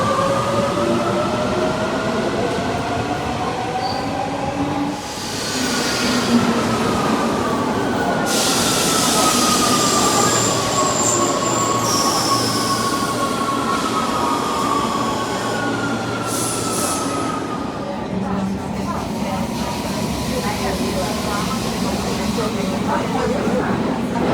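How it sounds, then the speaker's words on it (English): Rome metro train at a loud underground platform, with rumbling wheels, rising and falling squeals and a brake hiss, all steady and close, with no talk. "the platforms here on the Rome metro as well are extremely noisy"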